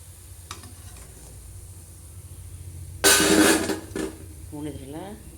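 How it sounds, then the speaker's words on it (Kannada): Soya chunks deep-fry over a low-to-medium flame until crisp, with a faint background hiss that swells into a loud burst of sizzling for about a second. A voice speaks briefly near the end. "ನೋಡಿದ್ರಲ್ಲ ಯಾವ ರೀತಿ ಸೌಂಡ್ ಆಗ್ತದೆ. ಕ್ರಿಸ್ಪ್ ಆಗೋವರೆಗೂ ಕರ್ಕೋಬೇಕು ಇವನ್ನ."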